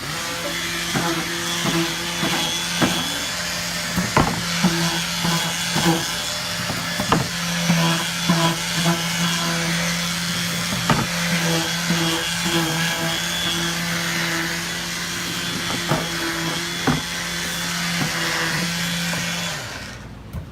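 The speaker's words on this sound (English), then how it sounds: "Sanded my cork." Power sander running steadily on cork for a DIY organizer, a continuous buzzing drone with small knocks and scrapes throughout, close and loud, stopping at the very end.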